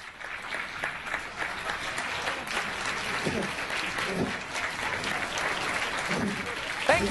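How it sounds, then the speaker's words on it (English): A live show audience claps hands together in response to a performer, producing dense, sustained applause across the crowd that holds steady throughout, with some talking mixed in underneath. "Are you ready to clap your hands?"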